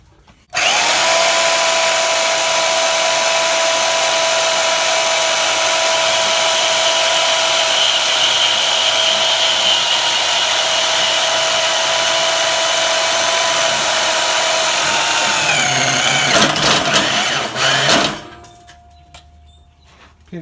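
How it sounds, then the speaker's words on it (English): A Bauer portable bandsaw from Harbor Freight runs loud and steady through a long cut, its motor whine holding constant before the blade slows and winds down near the end. "I recently bought this Bauer portable bandsaw, and this is going to be the first time I use it"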